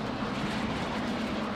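A jet-mode aircraft engine in Saints Row: The Third, a continuous, steady roaring drone with a low hum underneath, loud and unbroken throughout.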